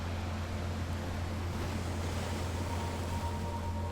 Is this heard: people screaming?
no